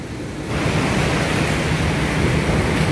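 Sea waves at Ban Krut beach make a loud, steady broadband wash of surf that swells up after a moment and holds as continuous roar, with no talk.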